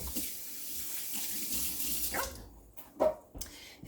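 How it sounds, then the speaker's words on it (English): Water runs from a kitchen sink tap as fingers are rinsed under it, a steady close splash that breaks up near the end, with a dog faintly barking in the background. "Rinse my fingers off."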